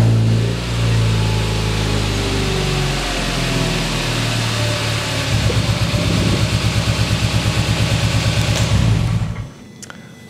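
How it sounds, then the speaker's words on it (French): A Hyundai GDI 1.6L engine on a test bench runs with a steady idling hum, then settles into a rhythmic pulsing beat that grows slightly louder before the engine cuts out near the end, heard close and alone. "On va partir le moteur,"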